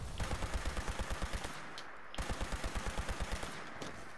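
Rapid automatic gunfire bursts out in a video game, two strings of quick evenly spaced shots separated by a short pause, loud and close.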